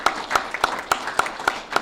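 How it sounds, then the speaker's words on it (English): A small audience at a city council meeting claps in a steady, sparse rhythm of about seven distinct claps, close by and fairly loud, with no voices over them. "Let's give him a round of applause"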